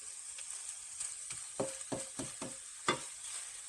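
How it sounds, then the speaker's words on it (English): Salmon cooks with scrambled eggs in a pan, a faint, soft sizzle under a series of light scraping and tapping stirs near the middle, quiet and close with no voices. "I'm going to try to cook it with the eggs instead of putting it in between the eggs"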